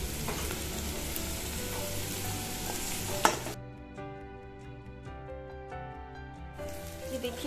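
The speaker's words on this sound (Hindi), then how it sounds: "ये देखिए हमारा प्याज फ्राई हो चुका है।" Onions fry with salt in a pan for a Hindi-style parwal aloo sabzi, a dense, steady sizzle that cuts off sharply partway, leaving a quieter stretch of ringing tones before the broadband sizzle swells back in at the end.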